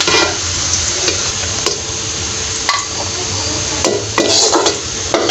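Onions being stirred in a pan and scooped out after the stove is switched off, a steady soft sizzle with spoon scrapes and clinks against the pan in close, loud passes.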